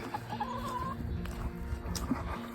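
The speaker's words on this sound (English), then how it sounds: "so the chickens are here." Farm chickens clucking close by during evening chores, a steady chatter of soft clucks over a constant low background hum.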